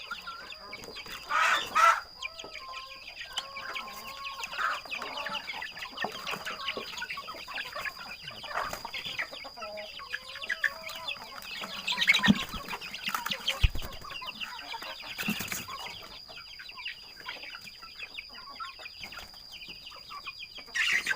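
Fighting cocks recovering after an injected Newcastle disease vaccination cluck on and off, with scattered short calls, some close and some farther off, over a quiet background with a steady faint hum.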